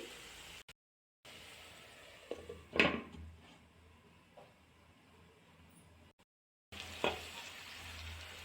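Potato pieces fry with garlic chili powder in a covered pan, giving a low, steady sizzle. Louder stirring scrapes stand out a few times, and the sound cuts out briefly twice.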